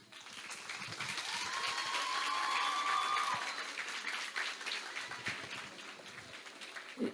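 Audience applause with some cheering at a campus election debate for the director-general post, a dense, steady roar of clapping that swells and then tapers slowly over several seconds.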